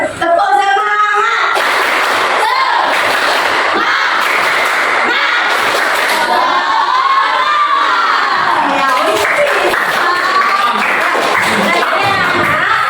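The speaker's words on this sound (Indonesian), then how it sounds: "Tepuk semangat." Children in an Indonesian classroom shout a group spirit clap chant together, a loud, sustained burst of massed young voices and cheering that runs the full length without a break.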